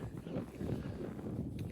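Steady wind buffeting a microphone on a cold, windy off-track hike in Iceland, a continuous low rumble holding at even strength throughout with no talk over it.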